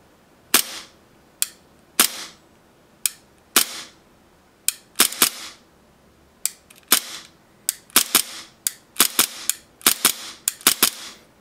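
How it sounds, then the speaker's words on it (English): Tokyo Marui P226 airsoft gas blowback pistol with a lightweight blowback unit fired in a steady series of sharp, close cracks, single shots and quick doubles spaced through the clip with no talking. "Lock back. Okay, I'm gonna hold down the other side and we'll just shoot here."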